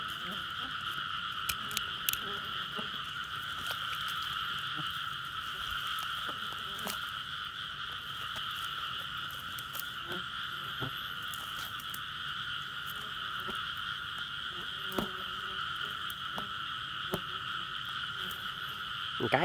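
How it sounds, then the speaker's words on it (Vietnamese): Frogs croak in a dense, continuous outdoor chorus during a frog-hunting outing in which male and female frogs are caught, with scattered faint clicks and rustles under the steady calling. "Hai con ếch cái với hai con ếch đực."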